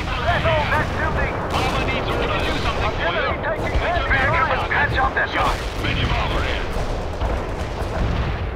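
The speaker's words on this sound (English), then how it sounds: "Artillery hits some enemies." Artillery shells striking enemy units in the strategy game World in Conflict, a dense, continuous barrage of booms and gunfire roaring throughout at steady loudness, with radio-style voices speaking over the battle.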